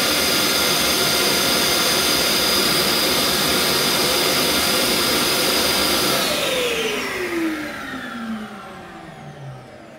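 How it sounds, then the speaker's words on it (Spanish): A 1200 W vacuum cleaner running off a portable AllPowers S2000Pro power station, a loud steady whine and roar that holds for several seconds before powering down, its pitch sliding lower as the motor winds down. "vamos a nuestro test del aspirador de los 1200 vatios con 1500 de pico"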